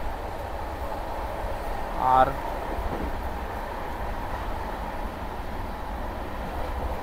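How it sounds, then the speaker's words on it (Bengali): Kanchankanya Express, Alipurduar to Sealdah, running on the line in sleeper class, with a steady low rumble and rattle of the carriage throughout, a brief louder clatter or horn-like tone early on and speech under it. "আমাদের ট্রেন এখন চলছে"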